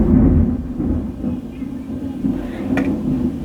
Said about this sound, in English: it's raining and thundering